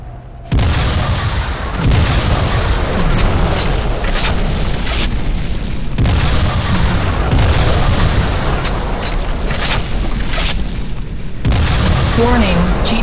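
Repeated heavy explosions and booming destruction of a Tiberian Refinery in the shooter game C&C Renegade, loud and dense throughout, with announcer-style voice lines heard over the blasts.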